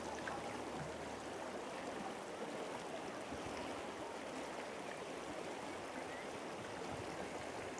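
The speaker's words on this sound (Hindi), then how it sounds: "पानी बहुत तेज़ जा रहा है यहाँ से।" Steady rushing of fast-flowing stream water, close and continuous, a broad constant roar with no voices.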